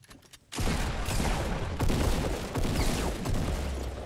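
Continuous rapid gunfire erupts after a brief quiet start, dense overlapping shots and booms sustained loudly throughout, a Fortnite firefight.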